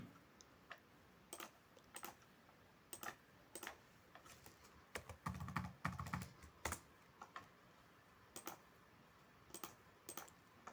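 Someone types data on a computer keyboard in bursts of close, crisp key clicks, with brief pauses between groups and a denser flurry partway through, in a quiet room with no talk.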